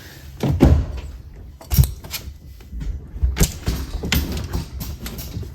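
A Volkswagen Mk8 GTI's car door clicks and thunks open in a few sharp mechanical bursts, close by, with quiet handling noises between them.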